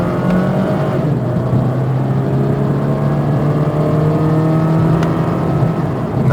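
A white 2000 Saturn LS1 four-door sedan accelerates with a steady, loud engine drone heard from inside, its pitch climbing smoothly with a brief shift break, and no talking.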